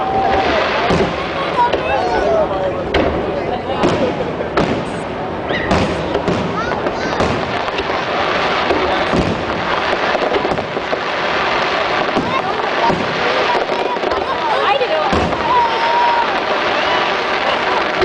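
Fourth of July fireworks bursting over Washington D.C., a dense, continuous barrage of booms, thuds and crackles going on throughout, with crowd noise and people talking mixed in.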